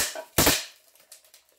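Snap peas (Knallerbsen) thrown into a smoothie blender go off with a sharp, loud crack followed by a few fainter scattered pops and crackles fading out.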